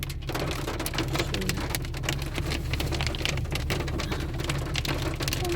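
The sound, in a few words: hail falling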